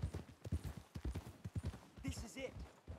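Horse hooves clip-clop in Red Dead Redemption 2, a quick, regular run of close hoofbeats with a voice talking over the middle.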